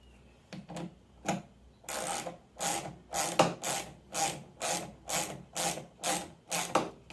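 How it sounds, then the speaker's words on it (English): Wrench ratcheting while tightening the locking piece on a bread maker's motor belt part, a close run of about a dozen rhythmic dry rasping strokes, quicker and sparser at first then settling into an even beat. "manually tighten it first as much as you can, and then use your wrench"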